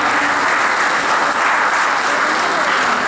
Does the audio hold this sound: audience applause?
yes